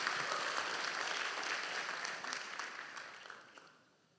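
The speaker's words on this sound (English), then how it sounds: "let's first give another big round of applause to the organizers who are putting on this event." A conference audience at a Python community keynote applauds the event organizers, steady dense clapping that holds for a few seconds and then tapers off toward the end.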